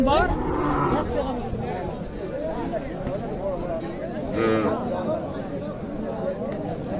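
Cattle low and moo amid the bustle of a livestock market at Mahadevpur in Naogaon, where Sahiwal heifer calves are traded, with people talking close by throughout.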